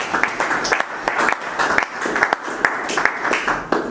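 A church congregation claps in steady applause, a dense run of overlapping hand claps with crisp accents at a moderate indoor distance, continuing for several seconds.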